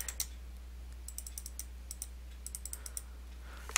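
Keys on a computer keyboard are typed in a quick, uneven run of light clicks, faint and close, with a brief pause near the start and a louder final keystroke at the end.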